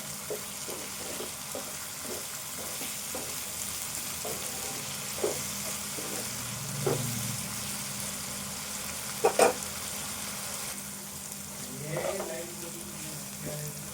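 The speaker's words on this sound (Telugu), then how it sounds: "ఈ ఉల్లిపాయ ఇట్లా వేగితే సరిపోద్ది." Onions fry in a pan for an egg curry, giving a continuous close sizzle broken by occasional clinks and stirring scrapes.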